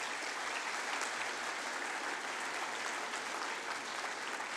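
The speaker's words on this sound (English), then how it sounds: "Could you please give these Year 8s a very warm round of applause?" Warm round of applause from a school awards ceremony audience for Year 8 students, steady, moderately quiet clapping that continues evenly from start to finish.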